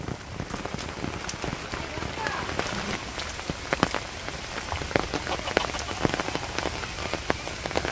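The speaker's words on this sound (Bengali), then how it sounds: "পশ্চিম পাশ এত সময় বৃষ্টি হইলো" Heavy rain falls in a village, a dense, even patter of drops striking surfaces close by, with frequent sharper individual splats, continuous throughout and only faint voices in the background.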